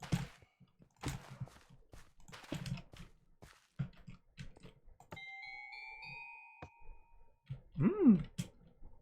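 Minecraft note blocks set on packed ice ring out as chime tones in a short bright sequence, a few clear tonal notes layered with some clicking and shuffling game sounds.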